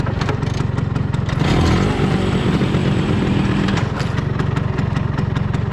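A motor scooter engine runs close and loud with a steady rapid putter, its pitch rising briefly as it revs.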